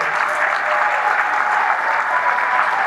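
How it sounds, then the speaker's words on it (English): Steady applause from a school graduation audience honoring National Honor Society students, a dense, even wash of clapping sustained at full level throughout without pause. "I'm going to ask those students in the National Honor Society to please stand as we applaud their academic success"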